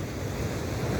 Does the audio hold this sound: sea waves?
yes